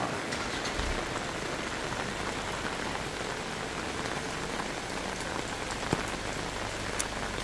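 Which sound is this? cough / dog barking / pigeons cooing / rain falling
rain falling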